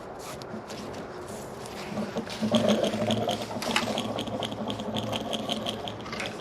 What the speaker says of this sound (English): We want that broadcasting blade that spins.